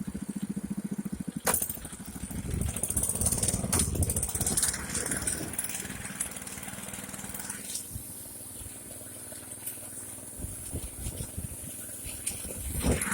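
A mini tractor with its clutch broken runs while pulling a hay rake: a pulsing engine chug opens, then gives way to a loud, continuous crunching and rattling of tines scraping through hay, with occasional sharper knocks.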